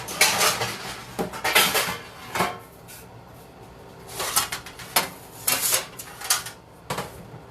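A baking pan is dragged out from a dark under-counter cupboard, with several bursts of loud metallic clattering and scraping of pots and pans separated by short pauses.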